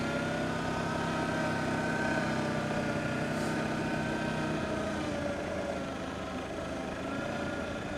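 Arctic Cat Diesel 700 utility vehicle engine runs steadily throughout a trail test ride, a continuous mid-to-low rumble with constant loudness and no talk.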